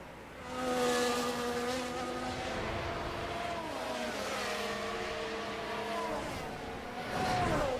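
Racing cars in a Mexico round of a racing video game lap the circuit, several engine notes whining and shifting pitch together in a steady, continuous drone with no talking.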